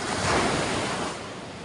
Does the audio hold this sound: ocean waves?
yes